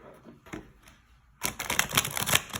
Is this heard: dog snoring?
no